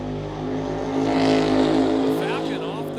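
A Falcon and a Cadillac drag racing car launch off the starting line at a drag strip, their engines roaring loud and swelling as they pull away, with an announcer talking over them.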